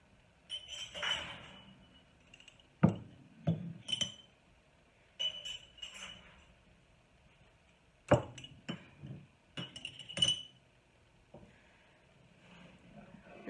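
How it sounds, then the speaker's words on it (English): Glass canning jars taken from the oven, clinking and knocking together in a quiet kitchen, several sharp separate chinks and clunks in irregular bursts with brief silences between. "I got the jars heating up in the oven here, and pull some out"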